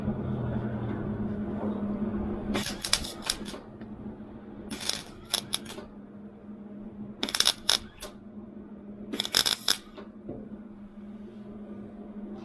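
A Hobart Handler 140 MIG welder stitch-welds thin automotive sheet metal in four short bursts of harsh crackling sizzle, each lasting about a second, separated by quiet pauses with faint shop hum.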